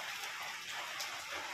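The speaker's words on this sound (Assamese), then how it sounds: "এই যে পানী উতলিছে" A pot of water boils on the stove, giving off a soft, steady bubbling hiss that stays faint and close, with no talk over it.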